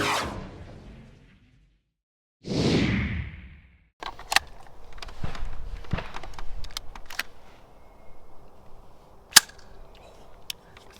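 A DAS airsoft rifle fires a few sharp, snappy shots during a recoil test, preceded by a loud whooshing burst and followed by scattered clicks and handling noise over a low background.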